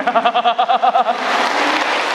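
Congregation applause in a Catholic church during a homily: after a voice chanting in a rhythmic pattern, a broad wash of clapping from many people rises and fills the hall, loud and sustained.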